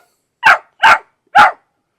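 Three loud, close dog barks in quick succession at a fenced yard, each sharp and separate with short silences between, no talking.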